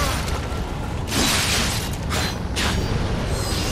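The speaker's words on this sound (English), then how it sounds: "Throw a bomb at you." Bomb blasts in the action game Nioh: a booming explosion around the one-second mark and another near two and a half seconds, loud and close over a rumbling game soundscape, with no talking.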